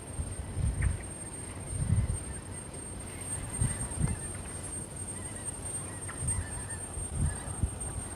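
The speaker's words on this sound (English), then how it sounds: "There's a flock of birds above" A flock of birds honks overhead at night near the SpaceX Starbase site in Boca Chica, Texas, with repeated goose-like calls of moderate loudness over a steady background hum.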